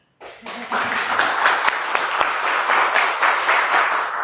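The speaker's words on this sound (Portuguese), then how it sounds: "Palmas pro carioca." A church congregation bursts into loud, sustained applause, dense clapping that holds steady for several seconds.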